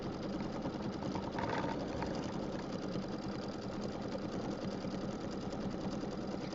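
A quilting machine stitches a stipple pattern through fabric with organza, a steady close mechanical whir with a rapid needle-driven pulse running evenly throughout, with no talking.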